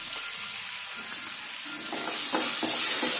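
Onion and tomato frying in a pan for Andhra-style brinjal curry: a loud, dense hissing sizzle that grows stronger, with a few clicking stirs of a spoon partway through.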